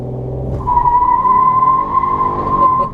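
A 2015 Toyota Camry XSE V6 does a brake-torque launch with traction control off. After a brief engine rumble, the tires break into a loud, sustained screech that stays close and steady for over two seconds.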